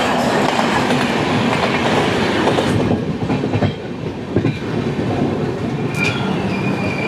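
A train crosses the Son river bridge, its steady loud rumble and rhythmic wheel clatter heard from on board, with occasional squeals and no talk.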